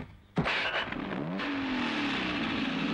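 A vehicle engine starts up with a sharp onset, then revs and settles into a steady, loud drone as it pulls away, with no talk over it.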